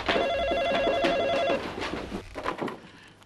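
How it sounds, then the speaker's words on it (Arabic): An old landline telephone bell rings in rapid bursts for about one and a half seconds, loud and close, followed by muffled movement and faint voices as it stops. "تليفون؟"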